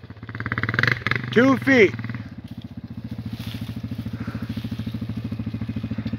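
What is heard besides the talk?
Honda TRX400EX big bore ATV engine under load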